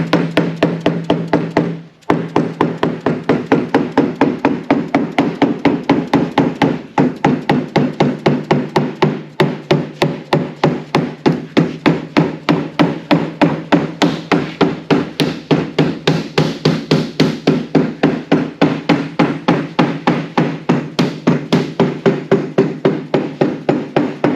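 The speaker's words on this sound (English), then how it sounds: "this is like a heavy nylon or rubber with some shot in there" A heavy shot-filled nylon or rubber dead-blow hammer strikes a fiberglass mold again and again, a loud, close, fast and even run of dull thuds with one brief pause near the start.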